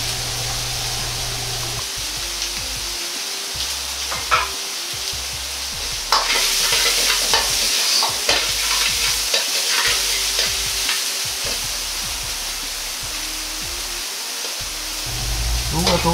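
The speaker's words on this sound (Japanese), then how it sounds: "たけのこを入れて炒めていきます。" Bamboo shoots sizzle steadily in hot oil while a utensil scrapes and clacks against the pan in irregular strokes, close and continuous.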